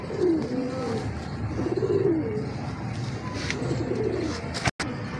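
Teddy pigeons in a cage coo in repeated low, throaty rolls, close and steady over a faint hum, with a brief thump near the end.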